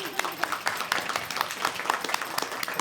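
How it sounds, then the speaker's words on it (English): Wedding guests applaud the venue staff after a meal, scattered claps close by with talk mixed in and a few sharper hand strikes standing out. "Let's give a round of applause to the Delta staff"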